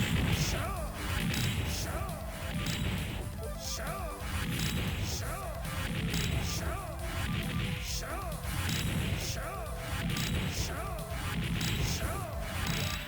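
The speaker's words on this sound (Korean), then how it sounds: "당시의 캡콤답게 보너스 게임은 부수기입니다" Objects get smashed in a bonus stage of the Capcom arcade game Red Earth, with rhythmic crashes and whacks repeating every second or so over game music while a voice talks.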